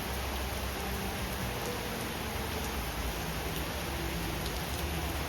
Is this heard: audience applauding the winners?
no